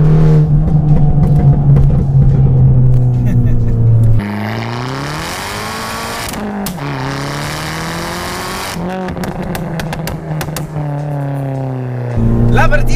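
A used Fiat 500 Abarth revs hard with a loud, close engine drone rising and falling through gear changes. Crackling pops and bangs come from the exhaust as the throttle is released.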